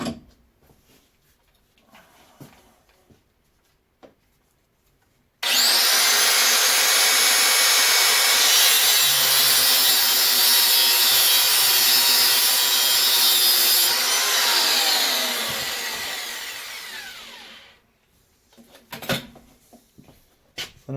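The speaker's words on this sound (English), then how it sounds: "I'm going to stick this in the vise here and then I'll cut it" A loud, steady power-tool cutting whine runs for about twelve seconds as an oil line with AN fittings, clamped in a vise, is cut through, then tapers off, with quieter handling clatter before and after.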